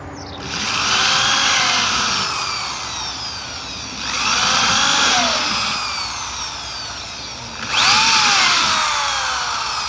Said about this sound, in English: I drill the rest of the battens.